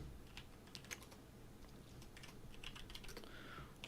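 Light clicking keystrokes on a computer keyboard, faint and close, tapping in short irregular bursts over a quiet low hum.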